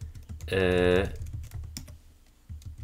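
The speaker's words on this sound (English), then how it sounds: "We can type here, and whatever we type here" Keys clatter on a computer keyboard in uneven bursts of close taps, with a brief tonal burst early on.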